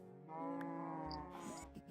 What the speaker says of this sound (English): I have a cow pasture here, and it's free roam.